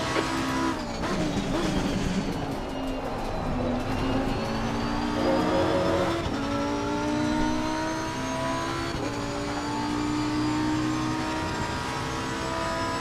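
A race car in a sim racing game laps Mount Panorama, its engine roaring loud and steady with rising and falling gear-change pitch sweeps, shifting up through the gears along the straights, with no talk over it.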